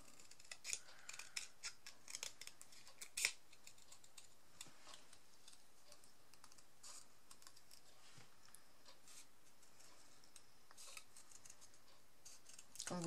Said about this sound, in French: le papier aquarelle à découper, c'est pas évident